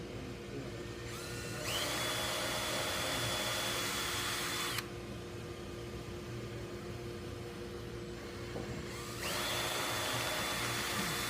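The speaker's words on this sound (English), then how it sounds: "draw where your two holes are going to be, drill the holes, countersink the inside" A power drill bores rivet holes through a prosthetic triceps cuff, whining steadily in two long bursts separated by a quieter pause, close and loud with no talking.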